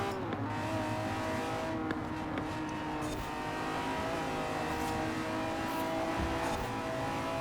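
A Lamborghini supercar, a Diablo GTR or Aventador, revs steadily through the first lap of a track in Forza Horizon 4. The engine drone is loud, continuous and close, with shifting pitch and faint tire noise.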